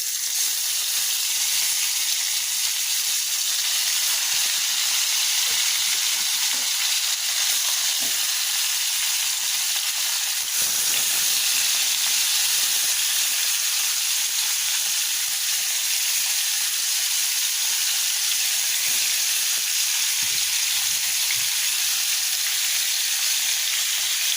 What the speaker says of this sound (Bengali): আমি মাছ কিছুটা নিয়ে হলুদ লবণ মাখিয়ে রেখেছি এখন আমি ফ্রাই করে নেব চুলাতে তেল গরম করতে দিয়েছি